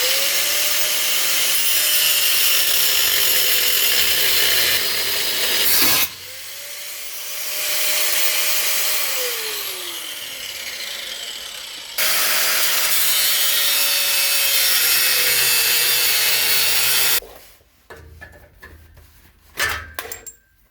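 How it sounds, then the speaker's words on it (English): An angle grinder cuts through the exhaust pipe of a Nissan Titan pickup in loud, sustained bursts with short pauses between passes, the pitch dropping as the disc bites, before ending in scattered clanks. "I'll get the grinder."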